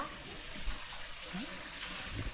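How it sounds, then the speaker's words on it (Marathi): Water trickles quietly from a stone gomukh spout at a temple carved into the ground, a soft, continuous flow heard faintly and up close with no other prominent sounds. "इथून पाणी वाहत असं येतं बाहेर परत ते असं पुढे वाहत जातं"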